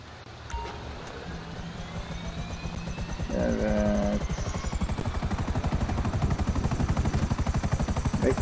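A helicopter in Grand Theft Auto Online spools up, its rotor chop building into a rapid, loud, steady thumping over engine whine, with a brief tone and mechanical clicks before the rotor sound takes over.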